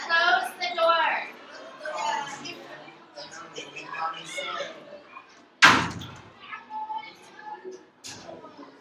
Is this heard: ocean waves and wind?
no